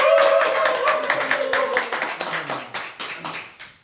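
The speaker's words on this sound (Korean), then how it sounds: "박수 한번 쳐줍시다" A few people clap at a local interview broadcast in Yeosu, a short burst of close, sparse handclaps that thins out and fades within a few seconds, with faint voices around it.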